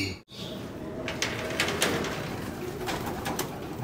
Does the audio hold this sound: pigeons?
yes